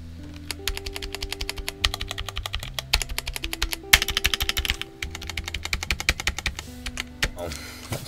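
Rapid, uneven clacking of keys on a Redragon Olaf K648 wired 90% mechanical keyboard, close and crisp, with bursts of typing and brief pauses under a low background hum.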